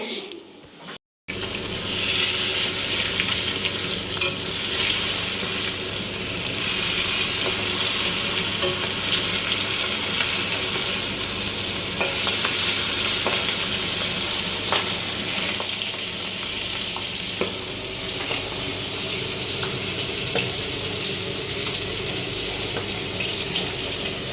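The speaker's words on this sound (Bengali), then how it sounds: "এই মাছের ঝোল মানে মাছ ভাজা চলছে" Fish frying in a pan in a home kitchen gives a loud, steady sizzle that runs nearly the whole time after a brief silent gap at the start, with occasional clinks and stirring.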